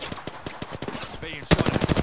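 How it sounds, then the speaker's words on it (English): Rapid automatic gunfire rattles in an Apex Legends match, loud and close in quick evenly spaced bursts, growing heavier near the end, with a voice briefly audible underneath. "I'm under fire. I'm taking fire."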